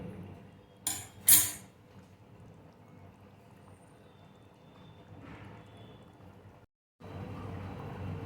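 Fried katla fish pieces dropped into a simmering curry in a pan, with two sharp clattering splashes near the start followed by a low bubbling simmer, a brief silence, then renewed sizzling.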